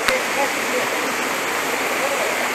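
A waterfall roars steadily nearby, a dense, continuous rush of falling water with no pauses.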